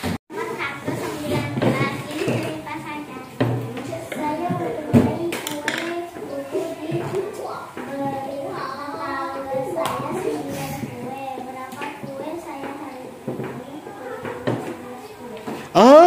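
Schoolchildren clap their hands in a numeracy class, irregular scattered claps mixed with lively children's chatter and a teacher speaking.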